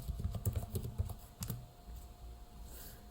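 Someone types a password on a computer keyboard: a quick cluster of soft, close key taps, then a firmer keystroke and a few scattered clicks before quiet.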